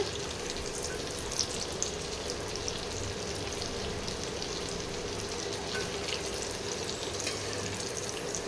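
Chicken popcorn deep-frying in oil, a soft, steady bubbling sizzle with scattered faint pops. It runs evenly and fairly quietly throughout, with no talk.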